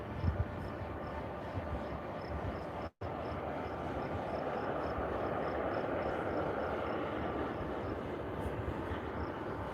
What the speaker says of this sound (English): That's got to be another plane down at the other end warming up.